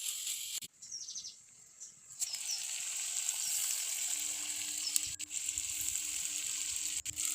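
Potatoes and taro stolons stir-frying in hot oil, a steady broadband sizzle that drops briefly then returns strong and continuous, with a faint low hum beneath and no talk.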